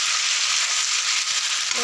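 Frying for a simple mutton curry, with ingredients sizzling steadily in a hot pan, a dense, even hiss that stays loud and unbroken throughout, with no voices.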